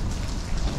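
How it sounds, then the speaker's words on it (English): Steady rain falling outdoors at Brooklands Museum, a dense, continuous hiss of drops on surfaces with no break, close and fairly loud throughout the short stretch. "we're just getting out of the rain"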